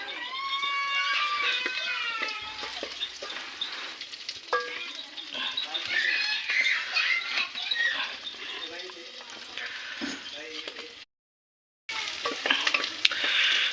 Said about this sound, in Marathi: कांदा मस्तपैकी असा फ्राय करून घ्यायचा बिर्याणीसाठी.